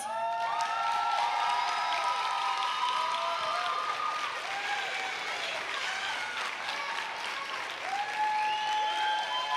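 A packed high school gymnasium crowd at a Wakefield vs Beverly volleyball match gives the seniors a big, sustained round of applause, with cheers and whoops rising through the steady clapping.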